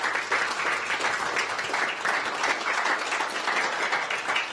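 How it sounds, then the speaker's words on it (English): Warm applause for a panel discussion on searching for missing persons, a steady wash of many hands clapping, sustained and even from start to end. "Can we give the panel a warm round of applause?"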